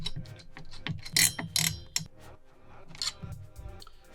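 Small screws being threaded by hand to mount an AMD CPU cooler inside a prebuilt PC, heard as close, quiet ratcheting and clicking taps in irregular bursts.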